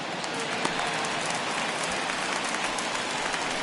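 Rain pours down over a baseball stadium during a Cardinals–Nationals game, a dense, even patter of drops hissing steadily without break.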